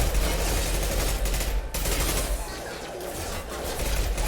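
Sustained automatic gunfire in the game Mass Effect 2, a dense, continuous rattle of shots with battle noise filling the whole stretch and no clear pauses.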